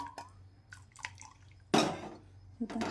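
Jaggery water poured into wheat flour for sweet gulgule batter, heard as sparse drips and splashes with a louder pour near the end, close and otherwise quiet.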